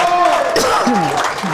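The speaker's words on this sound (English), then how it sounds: "Now the crowd's going wild." Spectators roar at a women's open bowls final, a continuous loud wash of crowd noise with a commentator's voice speaking over it.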